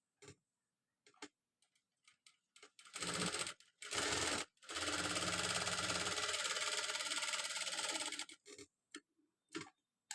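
A sewing machine stitches the side seam of a blouse in long steady runs that stop and restart, each with a mechanical whir and clicking, surrounded by small handling taps.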